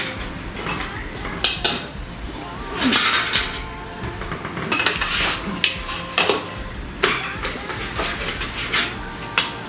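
Serving utensils scrape and clink against a plate and pan while roasted potatoes are scooped, a steady run of close metallic clatters and knocks with a few sharper taps.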